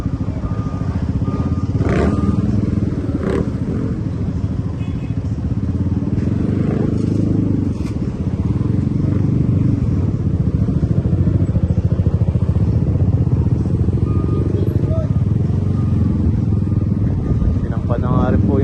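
Motorcycle being hauled up onto a truck during a street anti-illegal-parking clearing operation in Malabon, heard as a steady, loud rumble with scraping and clattering over traffic noise while people talk throughout.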